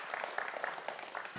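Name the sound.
audience applause for a quiz contestant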